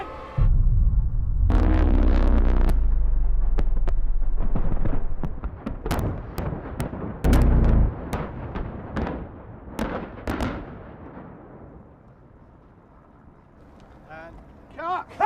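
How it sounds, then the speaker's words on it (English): A huge film-set explosion for the James Bond movie Spectre booms loudly for several seconds as a deep, rolling blast. Sharper cracks and scattered bangs follow, then fading debris, with voices nearby. "Largest explosion in the history of movies."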